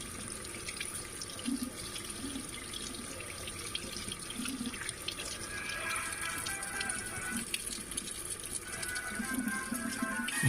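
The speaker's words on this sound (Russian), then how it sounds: "Я поместил смартфон под струей воды" Steady stream of tap water pouring and splashing over an Oukitel WP36 rugged smartphone, a continuous broadband hiss with gurgling variations, close and fairly loud with no talk.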